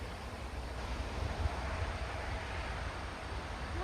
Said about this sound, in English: Everyone knows it's windy.